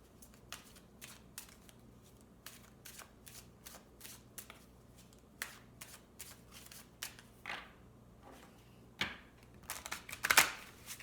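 A deck of Romance Angels oracle cards is shuffled and drawn, with quick riffling flicks and soft card slaps up close, quiet, ending in a louder burst.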